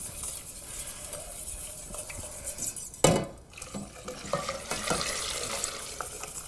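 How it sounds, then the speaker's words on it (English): A whisk stirs hot milk into a thickening white sauce for macaroni and cheese in a pan, a steady scraping and sloshing with one sharp clank of the whisk hitting the pan midway. "I just want to slowly add the hot milk, and you'll see the whole thing becomes a really nice, thick, white sauce"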